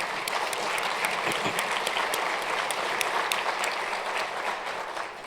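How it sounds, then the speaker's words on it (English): A business event audience applauds its corporate partners with continuous, even clapping from a sizeable crowd, fairly loud and steady from start to finish with sharp individual claps standing out, and no speech over it. "Let's have a round of applause for those great partners."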